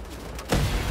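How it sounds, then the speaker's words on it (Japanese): An explosion in the video game Wolfenstein: The Old Blood lands as a sudden heavy boom halfway through, following a stretch of lighter game noise and leaving a dense rumbling tail. "おお、爆発した。"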